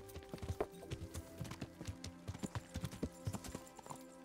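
Hooves clip-clop at a steady, brisk rhythm as a horse is ridden through a dark forest in the video game Kingdom Come, the footfalls close and moderately quiet over faint background ambience.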